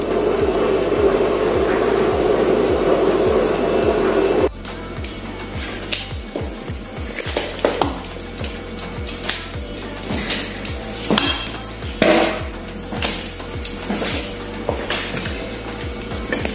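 A knife chops fresh dill finely on a cutting board in quick, regular taps, a brisk rhythmic knocking heard close up, following a few seconds of steady sizzling from a pan of simmering sauce.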